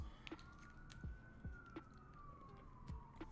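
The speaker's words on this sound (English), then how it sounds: "You can hear the sirens." Emergency vehicle siren wailing in New York City, a steady rising-and-falling tone carrying faintly over city background noise with scattered knocks and clicks.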